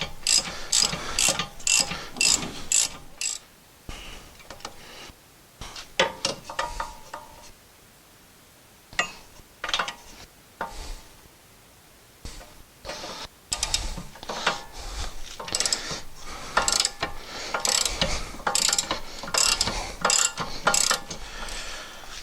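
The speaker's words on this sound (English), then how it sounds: "So we will use our ratchet to remove those all the way." A ratchet backing out rear brake bolts on a Honda CR-V, rapid clicking bursts of the pawl close by, broken by short pauses and a quieter stretch midway.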